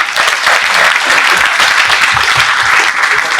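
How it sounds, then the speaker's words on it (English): A large audience at a college induction programme gives a steady, loud round of clapping that holds evenly throughout with no break. "So I want everyone to give a good round of applause."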